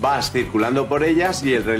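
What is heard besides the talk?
No distinct noise like a dog, phone or traffic.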